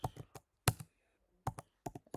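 Short bursts of keystrokes on a computer keyboard as a terminal command is typed, close and fairly quiet, in uneven clusters separated by brief pauses.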